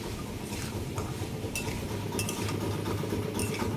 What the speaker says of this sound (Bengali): ভালোভাবে নেড়েচেড়ে একটু ভেজে নেব।